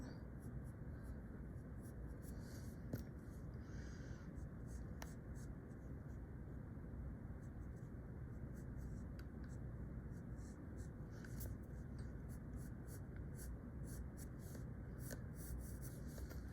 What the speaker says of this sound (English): Then I'm going to draw the eyebrow.